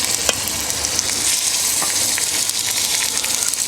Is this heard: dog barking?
no